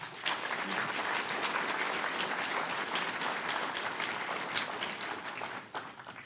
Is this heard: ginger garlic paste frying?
no